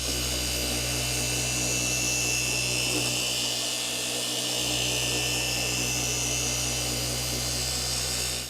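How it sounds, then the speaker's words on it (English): A rotary polisher buffs clear coat over deep key scratches in a car's paint, giving a loud, steady mechanical whir with a constant tonal hum that runs without a break from start to finish, with no talking. "Let me buff that out."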